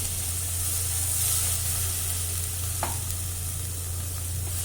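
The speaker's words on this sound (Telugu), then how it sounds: "ఇప్పుడైతే కరివేపాకు కూడా వేసుకొని కరివేపాకు కూడా వేయించుకున్నామండి" Curry leaves fry in hot oil with a steady, close sizzle and hiss that runs throughout, broken once by a single sharp tap partway through.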